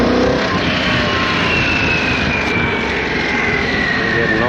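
Harley-Davidson Pan America 1250 adventure motorcycle with its 150 hp Revolution Max 1250cc engine pulling away on the road, a loud, steady engine roar with rising pitch under heavy wind rush.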